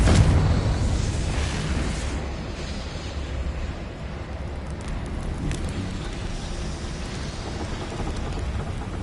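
A Confringo blasting spell bursting in Hogwarts Legacy, a loud rumbling boom that swells at the start and then settles into a long crackling, debris-like rumble.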